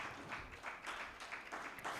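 Audience applause at a Rotary advocacy workshop session, steady scattered clapping from a seated crowd welcoming a district governor, moderately loud and continuous with no voices over it.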